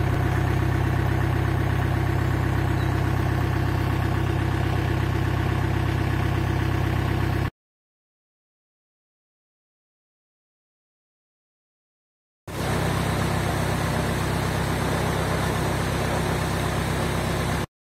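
Narrowboat diesel engine chugging steadily on the Grand Union Canal, a loud, even low-pitched drone that runs unbroken, drops to silence for a few seconds midway, then resumes.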